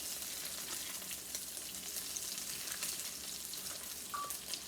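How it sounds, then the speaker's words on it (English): Eggplant fries in a pan with plenty of oil, giving a steady, continuous sizzle throughout with no talk. "frying it like this, the eggplant is almost done"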